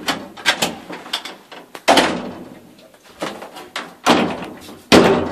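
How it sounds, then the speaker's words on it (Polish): A massive solid wood door, apparently on an old lift in Łódź, closes with several loud thuds and slams at irregular intervals, each followed by a rattling decay, with no voices. "Drzwi masywne, prawdziwe drewno."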